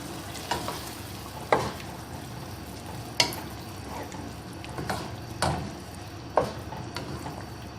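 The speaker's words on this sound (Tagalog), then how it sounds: "Then, haluin na natin siya." Spaghetti sauce with raisins and milk is stirred in a pan, a soft steady bubbling broken by about six sharp scrapes and knocks of the spoon against the pan at irregular intervals, close and moderately loud.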